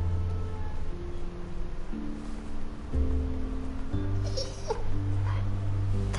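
A dog in The Walking Dead video game whimpers and yips softly in short repeated bursts over layered background music and a low drone, with no one speaking.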